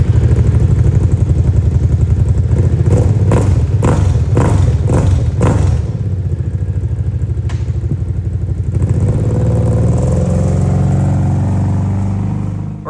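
A Brute Force 750 ATV's V-twin engine revs hard in swamp mud, a loud, rough roar with a rapid series of throttle blips and clattering bursts, then settling into a lower, steady rumble; no talking.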